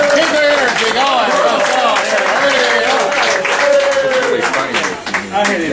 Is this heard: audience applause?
yes